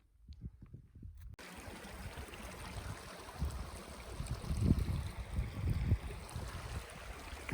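A mountain river flows along the Uinta Highline Trail, a steady rushing wash of water heard close, rising and falling slightly in loudness throughout.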